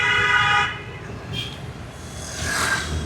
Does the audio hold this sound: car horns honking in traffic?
yes